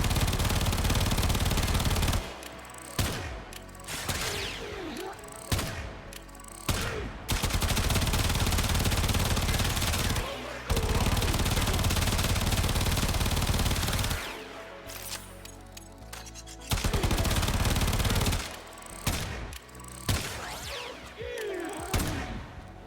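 Tenora Prime firing in Warframe with a Riven mod, long sustained automatic bursts broken by short pauses, loud and close with no talking.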